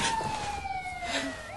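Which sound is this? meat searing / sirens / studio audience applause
sirens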